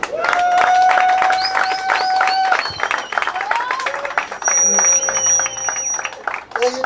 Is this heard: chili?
no